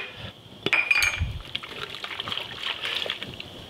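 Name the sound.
pasta water poured into pesto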